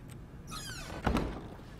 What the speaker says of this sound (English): Oh, shut the door on myself.